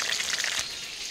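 Meat frying in a pan with tomato, a steady close hiss and sizzle for about a second that eases slightly near the end, with no voices.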